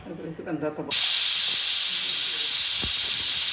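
After a brief voice, a pressure cooker holding moong dal rice with butter bursts into a loud, steady steam hiss and whistle that continues unbroken to the end.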